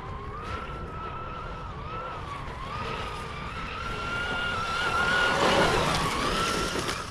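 A Traxxas RC car tears across dirt at full throttle, its electric motor whining in a steady high pitch that rises and sweeps as it passes closer, loud and unbroken throughout.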